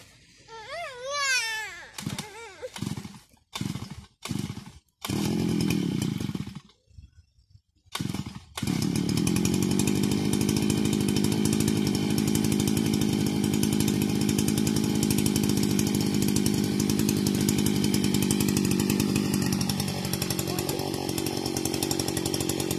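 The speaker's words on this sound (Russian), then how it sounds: "папа травку будет косить" A motorized grass trimmer starts with several short sputtering pulls and revs, then settles into a loud continuous engine drone while mowing grass, with a voice briefly audible early on.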